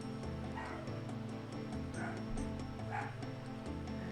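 A puppy yips and barks in the video game Gabriel Knight: Sins of the Fathers, with several short, high barks over steady background music.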